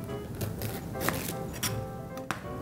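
Knife slicing mushrooms and vegetables on a cutting board for mushroom tom yam, several quiet irregular chops and taps, close and faint with no talking.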